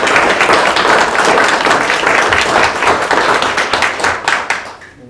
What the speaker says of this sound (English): a big round of applause for these individuals